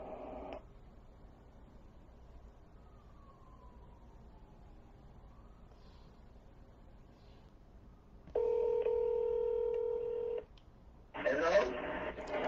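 A run of telephone keypad dialing tones, a few brief tone bursts and a longer held pair of tones, sounds clearly against a quiet background.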